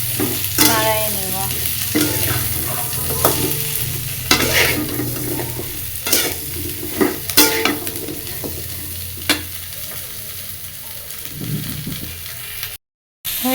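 Spices with turmeric and salt stirred in a hot frying pan, steady sizzle with repeated scraping strokes of the spoon, close and fairly loud.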